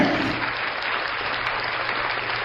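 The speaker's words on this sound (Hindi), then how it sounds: "कितने खुश हैं लोग, तालियां बजाते हैं इसी बात के लिए" Thick, continuous applause from a congregation during a church sermon, steady and full for a couple of seconds with no voices standing out.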